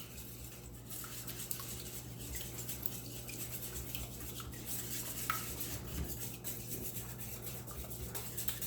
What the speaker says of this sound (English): And then I'm going to whisk it all together.